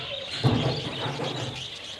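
Budgerigars chirping at a bird market, a brief busy cluster of small bird calls close by over a murmuring background, no speech.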